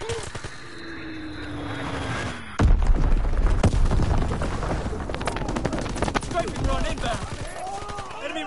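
A heavy blast from an Azon bomb in Call of Duty WW2 on the Shipment map erupts suddenly, followed by a roaring rumble with continuous gunfire and aircraft noise, while voices talk over it.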